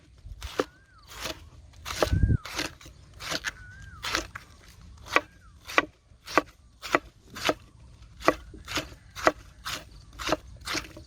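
A knife chops banana blossom steadily on a board, sharp regular strikes about once per second, close and clear, with a soft squeaky scrape between cuts.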